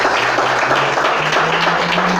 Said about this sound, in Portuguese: Pode aplaudir e glorificar